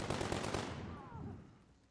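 A rapid, loud burst of heavy weapon fire from a mech in a MechWarrior game cuts off after about half a second and fades into a decaying rumble and tail.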